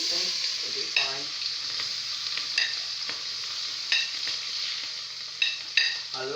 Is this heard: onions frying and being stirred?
yes